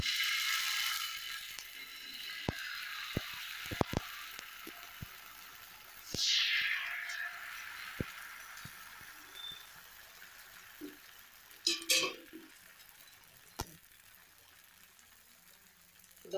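Amla (Indian gooseberry) dosa batter is poured onto a hot, lightly oiled dosa griddle. Faint hissing sizzles rise in short bursts, with scattered small clicks and taps around them.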